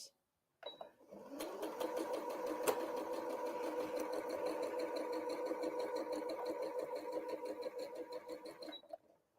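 A sewing machine stitches quilt pieces for a barn star block, running in a steady fast whirring rhythm for several seconds after a brief start, close and continuous, with a short stop at the end.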